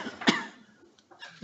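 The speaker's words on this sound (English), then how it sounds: "Why is he coughing?" A single sharp cough rings out in a quiet council meeting chamber, followed by faint murmuring and a brief voice afterward.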